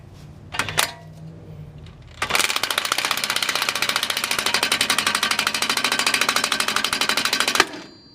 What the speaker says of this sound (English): you can use drill like me to pop this knuckle ball joint